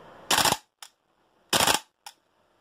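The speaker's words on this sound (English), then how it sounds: "if we were to go into three shot mode, then for each trigger pull, it will fire three shots" A Tokyo Marui Type 89 gas blowback airsoft rifle fires two quick bursts, each a loud, close rattle of three shots ending in a short mechanical clack, with silence between.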